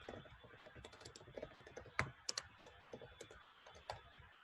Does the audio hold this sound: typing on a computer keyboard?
yes